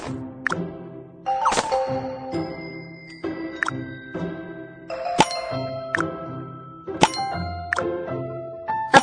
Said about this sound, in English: Broken gear wheels into the rubbish bin.